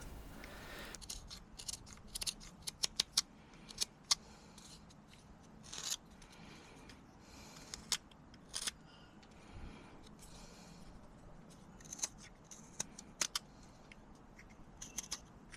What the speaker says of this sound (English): start chopping away with this knife.